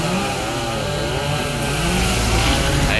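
A chainsaw runs loud and near at high revs, cutting through a section of a large sao tree trunk outdoors, its engine whine wavering steadily throughout.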